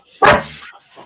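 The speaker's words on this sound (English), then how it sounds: "Sorry about the dog, everyone." A dog barks once, loud and near, with a short trailing yip after the sharp bark.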